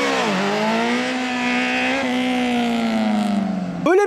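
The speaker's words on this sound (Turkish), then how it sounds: "O sırada gazı verdiğimiz anda debriyajı salıyoruz." A motorcycle engine holds a high, steady rev with slight pitch dips, then surges sharply at the end as the clutch is released for a wheelie; loud and close, with no talk.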